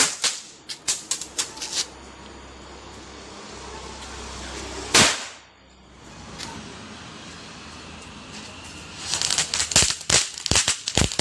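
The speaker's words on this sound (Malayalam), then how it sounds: "വേറൊന്നല്ല, പടക്കം പൊട്ടിക്കൽ തന്നെ." Firecrackers burst outdoors at a festive celebration in a series of sharp cracks, scattered at first, then a single loud bang, then a dense rapid crackling volley near the end, with no talk.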